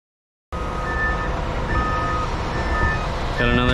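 A concrete truck pulls in to a manufactured home foundation pour, its engine a steady loud rumble with repeated tonal reversing beeps, ending in rapid beeping bursts near the end.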